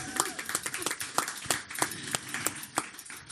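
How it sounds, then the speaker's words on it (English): A small audience at a community talk claps for a guest, with sparse, distinct handclaps at a fairly steady pace, moderately close and not very loud. "Give her a round of applause."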